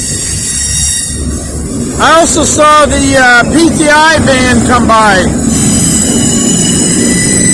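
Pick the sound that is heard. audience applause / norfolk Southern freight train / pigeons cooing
norfolk Southern freight train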